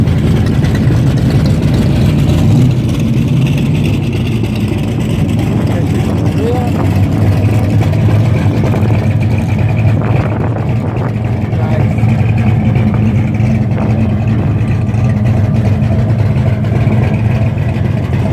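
Mopar muscle car with slicks on the back and a full roll bar rumbles steadily at a car show, a deep low engine drone continuing throughout with faint background crowd noise.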